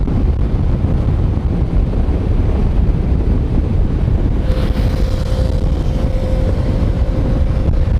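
Strong, full river flow rushes beside a temple at Alampur, a loud, steady broadband roar mixed with wind buffeting, and a faint steady tone joins partway through.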